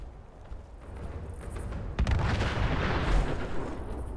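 Grenade explosions in the Fallout 76 video game, a heavy sharp blast at about two seconds over rumbling, crackling battle noise that swells and fades without talk.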